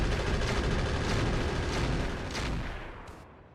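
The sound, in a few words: mech weapons fire from the video game Roguetech (BattleTech)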